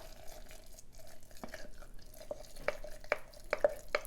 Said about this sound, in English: Let's stir our starter really well.